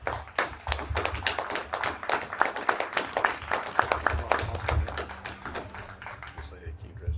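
Audience applause at a city council meeting, a steady run of many hands clapping in a room, moderately loud, with voices mixed in.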